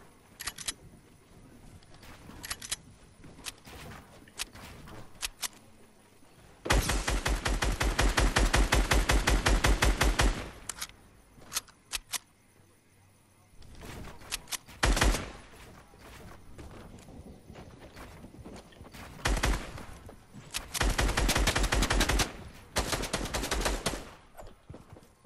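Fortnite gunfire rattles in long rapid automatic bursts, loud and close, with scattered single shots and quieter gaps between the heavy volleys.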